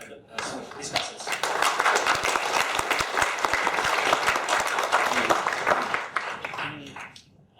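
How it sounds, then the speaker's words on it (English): A lecture audience gives a full round of applause for the speakers and discussants, dense clapping that swells, holds steady and then tapers off, with some talk mixed in. "please join me giving in a round of applause to the speakers and discussants."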